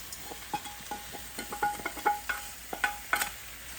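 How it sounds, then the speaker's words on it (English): Paneer jalfrezi masala being stirred in a pan over high heat, a spoon scraping and clacking in uneven bursts against a soft sizzle, close and fairly quiet with no voices. "Now we just give it a real good mix. We're cooking on high heat now. Real good stir."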